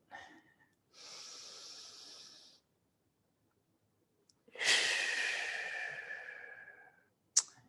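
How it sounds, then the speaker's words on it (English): Slow, deep breaths during a guided breathing exercise, close and quiet: a long soft inhale, a pause, then a longer, stronger exhale that fades out, ending with a short sharp sniff. "Using your exhalation to release any stress and tension from your shoulders."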